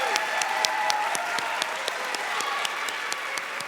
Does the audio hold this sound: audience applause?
yes